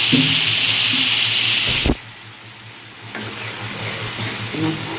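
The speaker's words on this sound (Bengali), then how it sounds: "এটা হচ্ছে চিংড়ি মাছের ঝাল চটচড়ি রান্না করছি" Shrimp fry in a pan for a spicy Bengali chorchori, a loud close sizzle that cuts off sharply partway through, drops to a quiet hiss, then builds back up.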